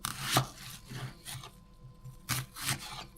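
A knife slicing around an onion on a board gives a few distinct crisp cutting strokes with scraping between them, close and fairly quiet, with no talking.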